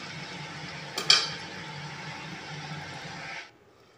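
Okra masala bubbling in a cooking pot gets a stir, a metal spoon clinking once against the rim, then steady simmering and scraping that stops abruptly.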